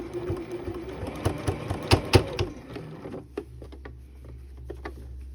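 A sewing machine topstitches fabric sleeves in quick, uneven bursts of stitching, the needle rattling close and clear before easing into a quieter, sparser patter with a low motor hum.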